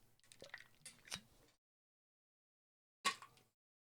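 Close gulps and slurps of ice water, a couple of wet swallows, then silence before one more short sip with a rattle of ice.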